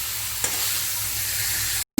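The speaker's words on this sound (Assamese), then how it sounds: "এতিয়া মই এইখিনি চিকেনখিনিৰ সৈতে ধুনীয়াকৈ এবাৰ মই লৰাই দিছোঁ" Chicken frying and being stirred in a pan over a medium gas flame for an Assamese chicken dish, with a steady close sizzle, a brief stirring clatter early on and a sudden cut near the end.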